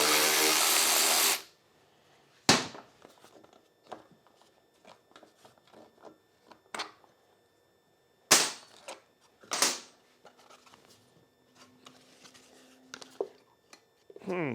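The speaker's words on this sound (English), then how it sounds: "Go back to our 10mm socket." A 10mm socket wrench works on bolts of a Honda engine fitted to a Troy-Bilt machine, producing scattered close metallic clicks and sharp knocks between stretches of quiet, with a muffled rumble at the very start.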